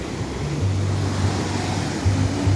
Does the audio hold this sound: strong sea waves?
yes